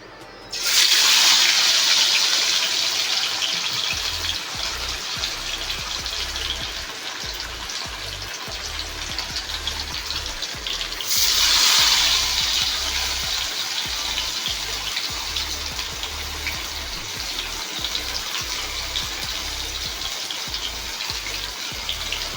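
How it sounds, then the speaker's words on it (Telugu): Marinated fish pieces dropped into hot oil, a loud bright sizzle bursting up at once, easing into a steady crackling fry, then a second surge of hissing partway through. "ఫస్ట్ 1 మినిట్ వాటిని అలా హై ఫ్లేమ్లో ఫ్రై చేసుకున్నాక"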